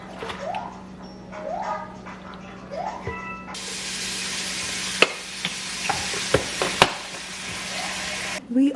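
Spaghetti is stirred through a hot, sizzling pan, the broad frying hiss carrying sharp scrapes and clacks of the utensil against the pan; a voice talks in the opening seconds before the stirring takes over.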